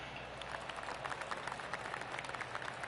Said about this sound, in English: To hear roars from another part of the course.